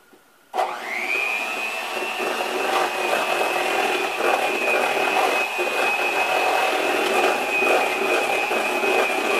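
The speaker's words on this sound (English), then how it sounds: "And then I'm going to blend it." Electric blender whirring steadily as it mixes strawberry lemon cake batter, starting abruptly after a brief quiet moment and then holding a constant, fairly loud motor hum with a high whine.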